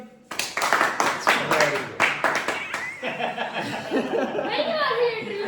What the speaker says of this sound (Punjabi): ਚਲੋ ਬੱਚੋ ਮਾਰੋ ਤਾੜੀ